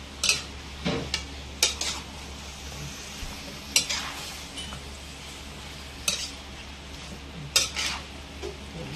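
A spoon or utensil stirring chicken in a pot, giving sharp metallic clinks and scrapes at irregular intervals over a soft, steady sizzle.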